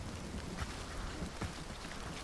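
Steady rain falling in Hunt: Showdown, a soft even hiss of drops with a few faint bumps, moderately quiet and without talk.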